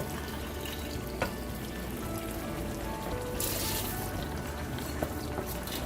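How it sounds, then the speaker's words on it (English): Water being drained from soaked rice for a mutton dum biryani, a steady pouring trickle running throughout at low level with a couple of faint clinks. "going to drain the water and add the rest of the rice."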